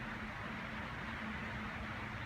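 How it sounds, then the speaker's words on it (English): Heavy rain pours down steadily outside a workshop during a Classic Mini pickup restoration, a dense, even hiss with a faint low hum underneath and no pauses. "Sorry about the noise, it's absolutely bucketing down here."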